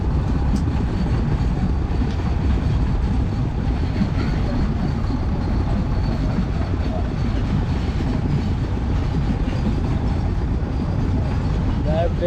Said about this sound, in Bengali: এটা কি মালবাহী ট্রেন মামা?